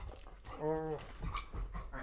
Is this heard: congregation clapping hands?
no